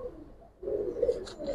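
A pigeon coos in a low, throaty murmur that swells after a brief lull, close by and fairly clear, with a faint flutter or scrape near the end and no speech.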